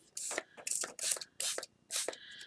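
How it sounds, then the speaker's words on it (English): Five short bursts of homemade shimmery mist sprayed from a spray bottle onto a craft tag, each hiss close and fairly loud, separated by brief pauses. "I'm going to spray it, but I'm not just spraying it with water"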